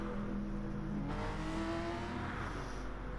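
Race cars passing on the Monza track in a Blancpain racing video game, engines droning with a steady hum that swells and fades faintly as they go by.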